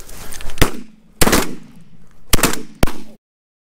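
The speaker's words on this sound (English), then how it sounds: "Coming from the right, hard. Ready? Shoot 'em, boys." Shotguns firing at mallards during a field duck hunt: four loud, sharp blasts spaced unevenly, the middle ones echoing briefly, ending abruptly in silence.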